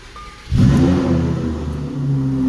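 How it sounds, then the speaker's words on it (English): A Lamborghini Huracan engine cranks and fires up with a loud roar at about half a second, then settles into a deep, rumbling idle. "I'm going to start the car"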